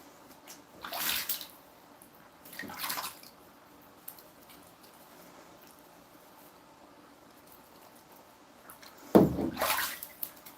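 Warm water splashes in a bathtub as a pet goose with a swollen left hip is bathed, three separate bursts of sloshing with quiet gaps between, the last one loudest and close.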